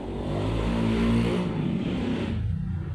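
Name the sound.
motorcycle passing by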